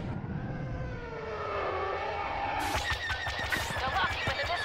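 An enemy bomber in Star Wars Battlefront roars overhead with a rising, sweeping engine whine, then a rapid crackle of blaster fire joins the loud flyby.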